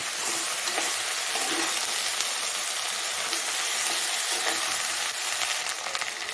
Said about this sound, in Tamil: கத்திரிக்காய் முருங்கக்காய் மச்சா தான் நல்லா வதக்கி விடணும்